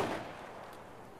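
A single gunshot in the video game Escape from Tarkov, a fairly muffled distant crack at the very start that decays into a fading rumbling echo, with no talking.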